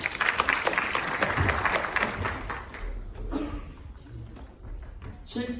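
Applause and clapping from a seated audience of teachers at a physical education class showcase, as one teacher is invited up on stage; the dense clapping is strongest at first, then thins and fades under scattered noise.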